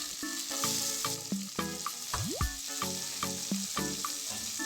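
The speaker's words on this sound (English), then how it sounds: "Once the oil is hot, add the stuffed squids." Goan recheado stuffed squids fry in about three tablespoons of hot oil in a thick-bottomed pan over medium heat, a steady close sizzle that runs under background music.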